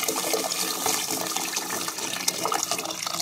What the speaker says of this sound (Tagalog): Talagyan na natin ng tubig.